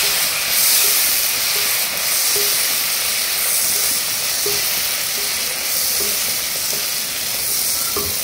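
Tomato paste hits a hot pan while cooking a Bengali mustard curry with pabda fish, giving a loud, steady frying sizzle and hiss that runs throughout with no talking.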